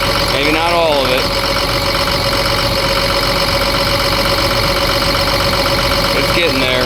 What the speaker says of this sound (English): now she's idling nice